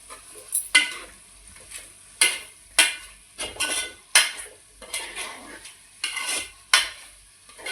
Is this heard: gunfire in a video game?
no